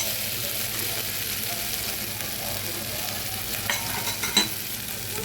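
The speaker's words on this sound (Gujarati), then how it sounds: "મરચું બરાબર કકડી જાય ને પછી આપણે દાળ નાખી દઈએ" Red chili powder, turmeric, coriander-cumin and garlic chili paste crackle in hot oil, making a dense, continuous sizzle with stirring scrapes and a few sharp clicks near the end. The frying runs alone, close and fairly loud, with no talk.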